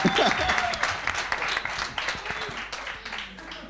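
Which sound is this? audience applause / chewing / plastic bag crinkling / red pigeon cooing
audience applause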